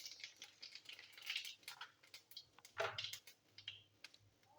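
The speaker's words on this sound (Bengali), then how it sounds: "জিরে আর শুকনো লঙ্কার ফোড়ন দিচ্ছি।" Cumin seeds and dried red chillies crackle and spit in hot mustard oil in a kadai, with a busy run of close, sharp pops and sputters and no voices.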